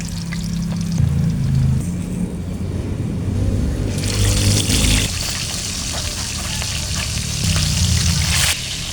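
Milkfish marinated in oyster sauce, calamansi and a little soy sauce fries loudly in hot oil, a constant crackling sizzle that flares louder partway through as more fish goes in, with no talking.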